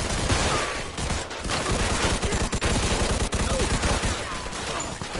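Sustained rapid gunfire in a video game, dense automatic bursts rattling on continuously at close range without pause, with no talk.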